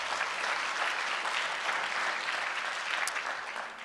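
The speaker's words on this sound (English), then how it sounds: "you can go ahead and applause" An audience at a city's State of the City address applauds steadily, a dense, even wash of clapping from a crowd that holds for several seconds before easing slightly.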